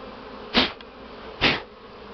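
Honey bees buzz around a comb without a frame as it is shaken clear of the remaining bees, with two sharp, loud bursts of rushing noise over a steady low background hum.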